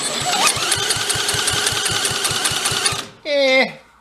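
A drill cranks the Corvair engine on a Monza SS go-kart with a loud, rapid, even mechanical chatter of regular ticks, then stops abruptly and a voice speaks briefly right after.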